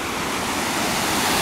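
Murky creek water rain-swollen after rain pours over a low dam on Neshaminy Creek in a state park, making a loud, steady, close rushing roar that fills the air throughout, with no voices.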